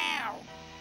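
A cartoon cat in a Smurfs episode lets out a single short meow, bright and close, falling in pitch and fading within a second.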